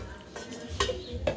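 A spoon scrapes and clinks through feijoada in a pot, a few soft stirring strokes with light metallic taps, close and quiet, without talk.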